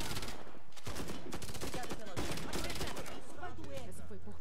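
Rapid automatic gunfire from the shooting game Warface rattles in dense continuous bursts, loud and close, filling the whole stretch.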